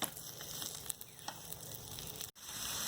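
Shrimp sizzling on an electric grill hotpot, a continuous close crackle and hiss of frying with small pops, steady throughout with one brief dropout near the end.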